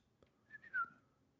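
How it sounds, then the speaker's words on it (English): A short whistled tune rises and slides, echoing the arrow whistle of Yondu in a Thor Love and Thunder trailer; faint, brief and alone, with no talk over it. "the whistle Cool. thing that Yondu left him"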